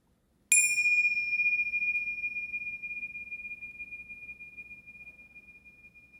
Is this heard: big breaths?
no